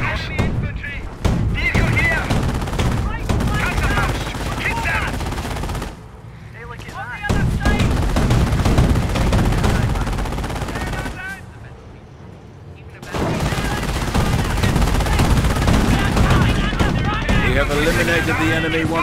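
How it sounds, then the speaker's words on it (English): Machine gun fire in the Company of Heroes real-time strategy game, set in a WWII battle at Wolfheze during Operation Market Garden: repeated loud bursts with explosions and battle noise, voices shouting over the fighting, easing briefly twice before resuming. "We are taking fire! Allmatt's MG."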